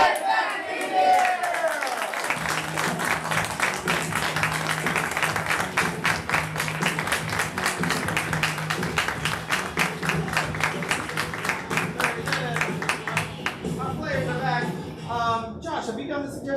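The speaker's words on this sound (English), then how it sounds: "Get back in here with a sustained round of applause." A live audience breaks into sustained, loud applause and cheering with yells, steady dense clapping that fills the room for over ten seconds before tapering, with voices shouting over it.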